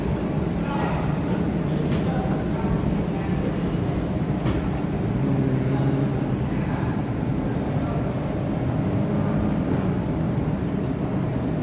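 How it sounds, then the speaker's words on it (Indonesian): Steady rumbling ride noise of the Kalayang skytrain at Soekarno-Hatta Airport, Jakarta, a continuous low drone with faint rattles throughout, fairly close and even in level. "perjalanan dengan menggunakan kereta Kalayang dilanjutkan kembali"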